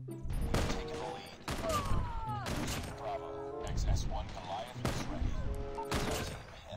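Shotgun fire in the mobile shooter COD Mobile: four or five heavy, punchy blasts spaced roughly a second apart, loud and close, with tonal game effects ringing between the shots.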